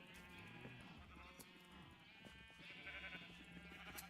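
Several sheep bleat in overlapping, wavering calls, fairly close, over a faint background hum.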